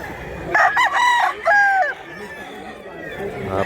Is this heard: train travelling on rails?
no